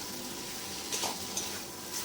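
Egg curry sautéing in a pan as boiled potato goes in, with a soft continuous sizzle and a few light scrapes and clinks of a stirring spoon.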